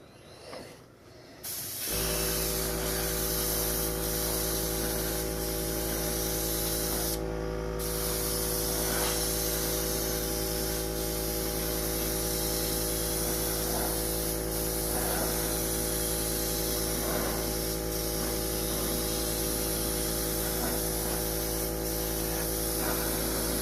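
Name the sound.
spray painting an RC drift car body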